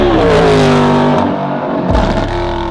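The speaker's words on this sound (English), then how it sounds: "What you just heard was an obviously upgraded exhaust system." A Mercedes SLS Black Series fitted with an upgraded Rentec/Capristo aftermarket exhaust revs loudly up close, the engine note climbing and falling, then dropping away before a second rise at the end.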